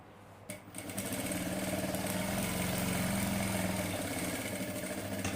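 A sewing machine stitching a two-in-one double glasses case with a lining: after a brief quiet start, a steady, close motor whir runs continuously with a faint rhythmic needle chatter.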